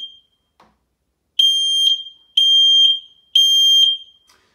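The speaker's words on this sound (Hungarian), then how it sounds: "Ez a fényes hangjelzés jelezni fogja a készülék üzembe-képes." A smoke detector sounds its test alarm in three loud, piercing, high beeps of about half a second each, evenly spaced, after a short faint tone and a soft click at the start, with no voices.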